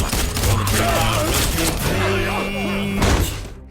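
Gunfire from the video game Prey: a dense fusillade of shots and thuds runs through the whole stretch under a voice and tonal game sound, with a heavier burst near the end.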